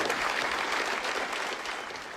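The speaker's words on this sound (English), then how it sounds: "the new Foreign Minister joined in the applause" Warm applause from a victorious Australian Labor caucus audience welcoming the new Prime Minister and Deputy Prime Minister, a dense steady clapping that fills the room and eases slightly toward the end.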